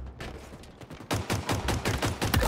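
Halo Infinite gunfire in a free-for-all King of the Hill match. It starts as sparse, muffled shots and swells into a dense, loud burst of rapid automatic fire up close.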